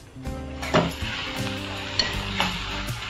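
Pav bhaji masala sizzles as it is sautéed and stirred in a pan, with close scraping and crackling over a steady tonal background.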